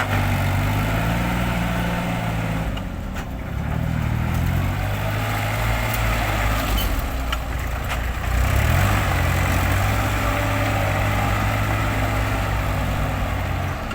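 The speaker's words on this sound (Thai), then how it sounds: "รถไถสายดันจริงๆ ครับคันนี้" A heavy Kubota tractor diesel engine drones continuously up close as it pushes mud at the bottom of a pond, its pitch rising and falling as it labors, with faint clanks and scraping underneath.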